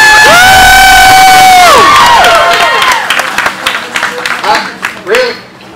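A wrestling event crowd erupts in loud cheering, shouting and whoops with some clapping, dense and close, then breaks into scattered yells that fade over several seconds.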